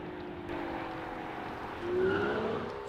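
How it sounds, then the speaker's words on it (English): An animated car braking to a stop, with engine tone and a rising tire squeal near the end, loud and close with no voices. "Now the brakes have been applied and the car has stopped."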